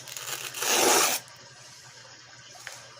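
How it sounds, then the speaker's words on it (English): Loud, close tearing and crinkling as a Mermaid Straw shipping package is ripped open, a harsh burst lasting about half a second followed by quieter rustling and a small tap. "I got a package from Mermaid Straw and we are going to open it."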